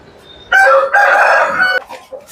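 A large, heavy Aseel rooster crows loudly and close, one long strained cock-a-doodle-doo broken in two parts, followed by a few softer trailing sounds.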